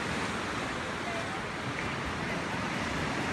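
Ocean waves wash at the Coogee beach rock pool in Sydney as a steady, broad surf roar with some wind, continuous and fairly distant.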